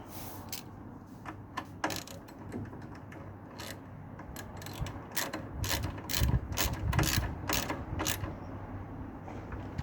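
A worn ratchet slipping while work is done on the brake of a Lexmoto LXR 125 motorcycle: quick, close metallic clicks and ratcheting over a low workshop background, with a heavier clunk of tool movement toward the end.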